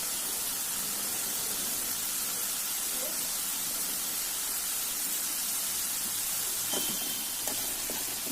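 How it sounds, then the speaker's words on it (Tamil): Food deep-frying in hot oil for a second round until golden gives off a constant, bright sizzling hiss, with a few faint crackles and pops toward the end. "செகண்ட் டைம் பொரிக்கும்போது நம்ம நல்லா டீப்பாக பண்ணணும்"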